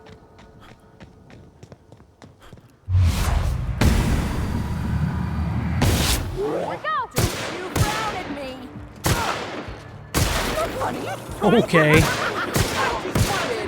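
Gunfire in The Outer Worlds, a role-playing shooter: loud, close bursts of shots and rapid volleys repeating through the stretch, with someone briefly talking beneath the shooting.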